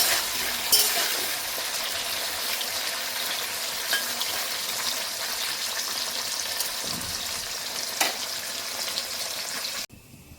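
Tangra fish frying in oil in a pan, a steady close sizzle with occasional utensil clinks and stirring knocks, running unbroken for about ten seconds before cutting off abruptly, no voices.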